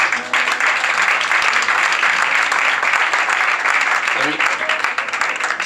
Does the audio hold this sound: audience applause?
yes